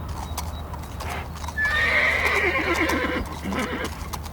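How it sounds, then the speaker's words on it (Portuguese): Wild mustang horses run free on the North American plains, hooves clip-clopping close by as one horse gives a loud, long neigh in the middle. "No coração das vastas planícies e montanhas da América do Norte, os Mustangs correm livres"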